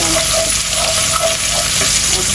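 Onions fry in a pan with a steady, dense sizzle and crackle that stays close and loud throughout, with no talking.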